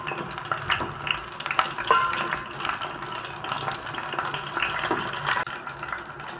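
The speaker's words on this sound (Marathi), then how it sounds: "ही मी चांगली वांगी तेलामध्ये फ्राय करून घेतलेली आहे" Eggplant pieces fry in hot oil for a village-style black eggplant curry, with a steady crackling sizzle and occasional stirring scrapes and clinks in the pan throughout, close and moderately loud, with no talking.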